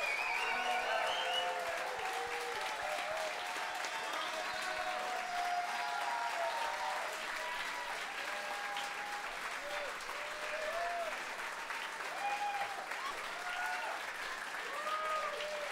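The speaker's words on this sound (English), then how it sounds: "Don't stop clapping" A live audience applauds a band after a set with oud and tabla: continuous, fairly distant crowd clapping that stays at an even level throughout, with scattered cheers and whistles.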